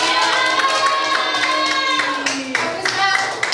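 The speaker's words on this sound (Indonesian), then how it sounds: "beri tepuk tangannya" A classroom audience claps for a student group about to present, with a burst of clapping mixed with children's voices and tonal shouts, loud and close throughout.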